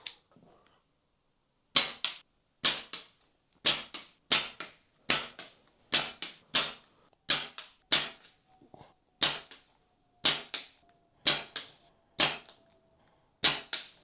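A SMK CP2 CO2 air pistol fires shot after shot in an underground bunker, about a dozen sharp cracks spaced roughly a second apart, each with a short echoing tail, loud and close with no talk.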